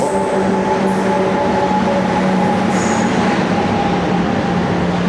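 Vivek Express passenger train pulling into a station, a loud continuous rumble of rolling wagons with steady tonal hum and a couple of brief high wheel squeals, no talk.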